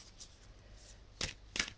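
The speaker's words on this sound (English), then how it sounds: "I usually like to shuffle until one falls out" Tarot cards being shuffled by hand, soft quiet riffles and slides with two sharper bursts of card flutter near the end, close and alone in a quiet room.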